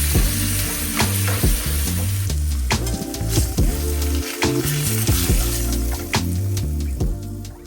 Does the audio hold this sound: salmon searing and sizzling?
yes